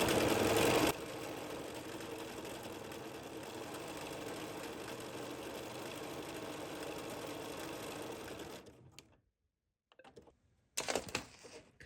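Embroidery sewing machine couching yarn with a circular attachment, a steady mid-pitched mechanical whir and needle rhythm running continuously before it stops, followed by a few brief clunks.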